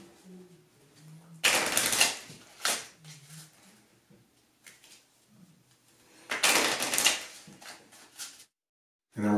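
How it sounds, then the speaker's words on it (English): Cards for The Living Maze board game are shuffled in two quick, loud riffling bursts, with soft talk and quiet handling sounds between them. "So we will give these a shuffle."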